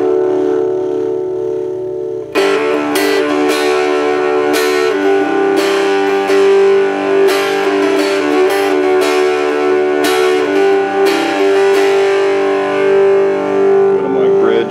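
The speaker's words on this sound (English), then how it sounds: "quite a bit of distortion there." A heavily distorted electric guitar on the bridge pickup plays through a small cigar box amp with a 3-inch speaker, gain all the way up, with sustained gritty chords and bursts of picked notes after a brief quiet start.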